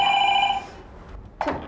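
A telephone bell rings in a bedroom setting, with a bright, steady electronic ring for about half a second that then cuts off. A short voice-like sound follows after a pause.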